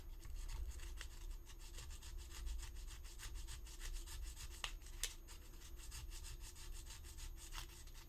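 Super glue and filler powder on a resin model are sanded down at a seam, a quiet close rasping that repeats in quick back-and-forth strokes throughout, with no talking.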